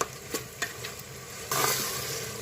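Ginger-garlic paste fries in oil for khichda, a close, steady sizzle broken by a few sharp utensil taps. A louder burst of frying follows partway through.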